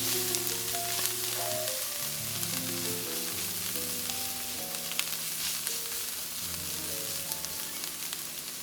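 Riced cauliflower fries in butter with a steady, close crackling sizzle, while soft music plays underneath.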